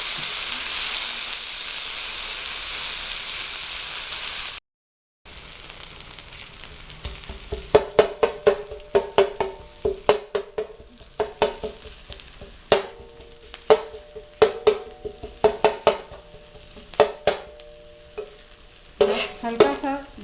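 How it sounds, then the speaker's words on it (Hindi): Onions sizzle in oil on a flat tawa griddle, loud close frying broken by a run of sharp spatula scrapes and clinks as they are stirred, with no talking. "हल्का सा बादामी कर लें प्याज को"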